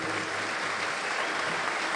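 A theatre audience applauds at an accordion concert at Teatro Dante. The clapping is dense, steady and continuous throughout, with no pauses.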